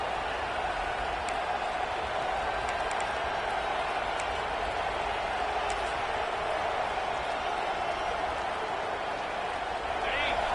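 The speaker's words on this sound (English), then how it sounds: "This crowd rising up, sensing that its defense needs some help." Stadium crowd noise from a Madden football video game, a steady dense roar that holds evenly throughout, loud and continuous with no clear breaks.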